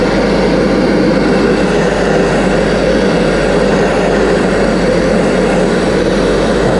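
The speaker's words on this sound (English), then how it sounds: "That compressor's struggling." A struggling air compressor runs loudly for sandblasting truck parts, a dense, unbroken low drone that holds steady throughout with no talking.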